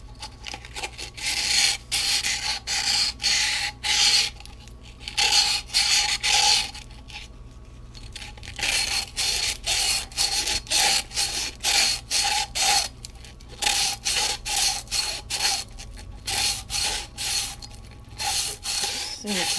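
Sandpaper rubbing around the rim of a sticky lid, a steady rasping scrape repeated in short bursts with brief pauses, close up and fairly loud over faint background hum.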